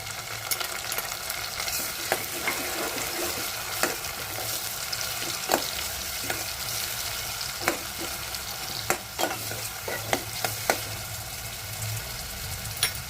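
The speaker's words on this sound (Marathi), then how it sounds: "कांदा भाजला आहे, त्यामध्ये टोमॅटो घालून परतून घेऊया।" Onion and tomato sautéing in a pan for black-eyed pea usal, a steady close sizzle broken by repeated sharp spatula taps and scrapes against the pan at irregular intervals.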